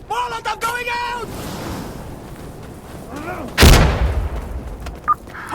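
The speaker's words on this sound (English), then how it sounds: "Throwing grenade, heads down! Molotov going out!" Grenade and Molotov explosions in the tactical shooter Insurgency Sandstorm, with a loud blast crashing in midway through the clip after shouted callouts and a faint crackle of distant gunfire behind.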